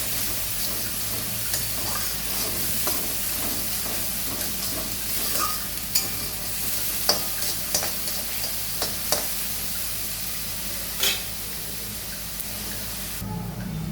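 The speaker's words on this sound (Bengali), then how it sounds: "গ্যাসটা লো ফ্লেম করে দিচ্ছি, হালকা করে ভেজে নেব" Pieces of katla fish fry gently in a pan over a low gas flame, giving a steady soft sizzle throughout with occasional sharper spatters and light clinks of a utensil.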